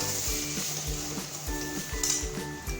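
A vegetable chop mixture with potato and roasted ground spices frying in a pan: steady sizzle with repeated rhythmic scraping and clinking of a spatula stirring against the pan, close up, no talking.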